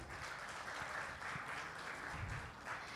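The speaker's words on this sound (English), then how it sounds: "Can we have a huge round of applause for him?" Faint, distant audience applause at a stroke medical symposium in a hall, a steady patter of clapping that continues evenly for a few seconds.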